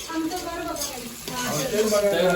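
Phodni tempering sizzling in a pan for pavta amti, a bright continuous sizzle heard under overlapping voices talking.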